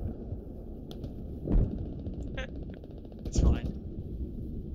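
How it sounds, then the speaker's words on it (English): Gunfire in the military shooter Squad, with two louder bursts standing out over a steady rumble of in-game battle noise, heard at a moderate distance. "I hear a gunshot."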